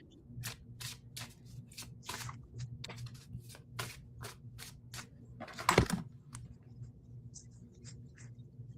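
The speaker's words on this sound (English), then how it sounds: "let's shuffle, shuffle, shuffle." Tarot or oracle card deck being shuffled by hand, giving rapid, crisp riffling and flicking bursts in a quick rhythm, up close, with a louder slap near the middle.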